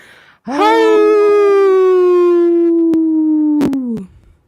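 A single long, loud howl imitating a wolf rises and holds for several seconds, a human voice mimicking the animal, with a few sharp clicks near the end.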